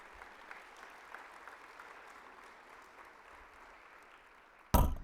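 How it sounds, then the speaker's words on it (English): A room full of people claps steadily at a moderate, somewhat distant level, ending in a sudden loud thump. "Let's give all the speakers and presenters today a big round of applause."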